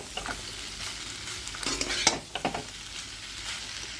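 Pasta sauce goes into a hot pan of pasta, giving a quiet sizzle broken by a few scraping stirs and spoon knocks, with no one talking.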